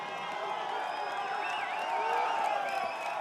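A Belgian crowd cheers for Wout van Aert at a cyclo-cross World Cup race in Namur, with continuous distant cheering, whoops and scattered shouts in a steady wash of noise and no clear talk.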